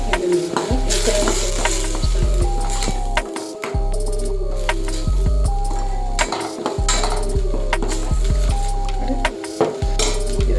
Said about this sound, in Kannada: ಶುಂಠಿ ಬೆಳ್ಳುಳ್ಳಿ ಪೇಸ್ಟ್ನ ಫ್ರೈ ಮಾಡ್ಕೊಳ್ಳೋಣ. ಈರುಳ್ಳಿ ಪೇಸ್ಟ್ ಜೊತೆಗೆ ಹಾಕ್ಕೊಂಡು ನೋಡಿ